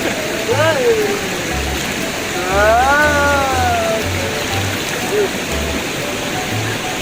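The Cigeruk river at Gunung Puntang rushes in a steady, loud broadband wash, with a voice speaking briefly over the flowing water.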